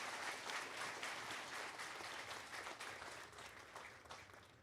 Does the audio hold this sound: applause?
yes